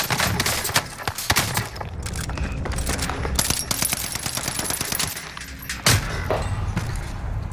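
Rapid automatic gunfire from the player's weapon in Call of Duty: Modern Warfare, dense bursts of sharp cracks close up with metallic clinks between them, heard without talking.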